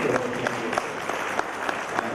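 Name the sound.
audience applause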